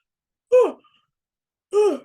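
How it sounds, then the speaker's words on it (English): A single breathy yawn, rising then falling, followed by a second drawn-out exhale; close and isolated against silence. "a little yawn there"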